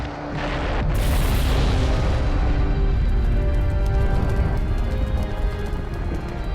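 A fire style jutsu explosion from the Naruto Ultimate Ninja Storm video game erupts in a loud, sustained roaring boom with a sharp burst near the start, rumbling on without speech.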